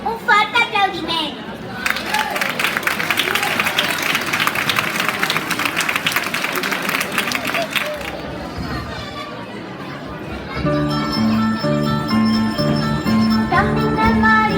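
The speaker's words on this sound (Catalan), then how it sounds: "Un fort aplaudiment" Audience applause for young kindergarten children at a school Christmas carol performance, a burst of clapping and chatter that dies away as a bell-like sung melody with piano starts up; a voice can be heard along with a presenter.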